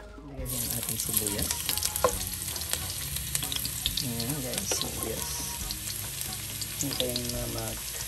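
Garlic frying in a pan, a loud steady close sizzle with scattered pops and crackles as it is stirred, with faint speech underneath.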